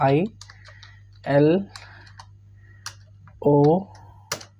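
Keys are tapped on a computer keyboard while entering text into a spreadsheet formula, giving sparse, light clicks between a man's spoken phrases.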